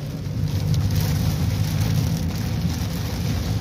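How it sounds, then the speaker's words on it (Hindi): Heavy rain pours down steadily on a city with flooded roads, a dense, continuous roar of water with a low rumble underneath and no voices. "बहुत ही तेज़ बारिश है।"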